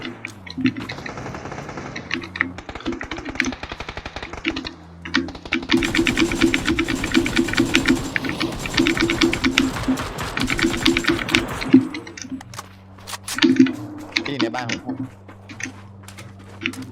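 A buzzing, rattling buggy engine in PlayerUnknown's Battlegrounds grows louder and fades again as the vehicle comes near, with people talking over it throughout.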